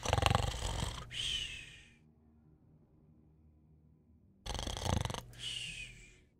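A voice imitates a sleeping gnome snoring: two long snores, each a rough inhaled rumble followed by a breathy, whistling exhale, with a quiet pause between them and no other talk.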